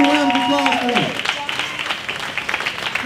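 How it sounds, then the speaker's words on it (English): Audience applause in a stand-up comedy club, a brisk burst of clapping with voices and some cheering on top, loud and close, settling into a steady patter. "Let's give a round of applause for them."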